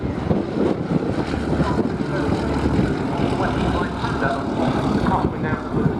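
Grumman Wildcat aircraft taxiing at a Duxford air display, a loud continuous piston engine and propeller drone that holds steady throughout, with crowd noise mixed in.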